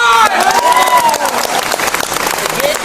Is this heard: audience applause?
yes